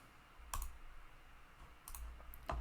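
Crisp computer mouse clicks while working in Tableau on a data chart, heard as a single click, then a pair of quick clicks, then another, close and clear over faint room hiss.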